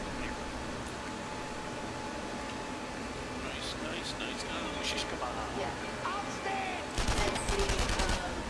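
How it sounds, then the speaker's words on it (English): An MP40 submachine gun is fired from the hip in the game Enemy Front. Bursts of gunfire sit over steady background noise, and a denser, louder fusillade comes near the end. People talk throughout. "MP40. Perfect for hip firing."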